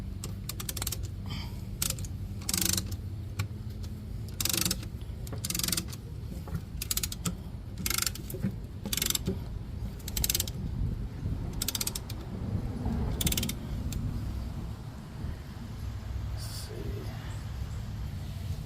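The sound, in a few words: compressing the front brake caliper pistons on a 2001 F-150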